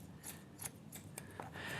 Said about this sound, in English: These scissors just follow that comb up and out